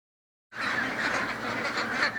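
A flock of ducks at a duck farm quacks in a dense, overlapping chorus, starting abruptly after a short silence and staying close and loud with no talk.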